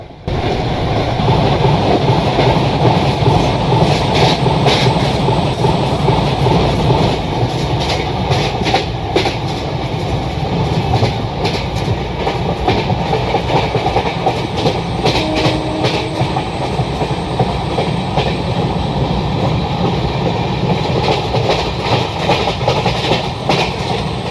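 In the Railworks train simulator, a WDP-4D diesel locomotive hauling ICF coaches passes during a crossing of Indian express trains, a loud continuous rumble with rhythmic clickety-clack of wheels over rail joints, close and sustained with no talk.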